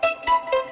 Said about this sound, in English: We've got thermal to kind of thicken it up and also just make it a little harsh